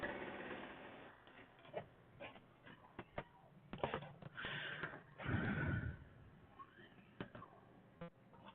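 An embroidery machine stitching an in-the-hoop plush stuffie piece, its rapid mechanical chatter running in bursts close by, with a few brief voice sounds and small handling noises.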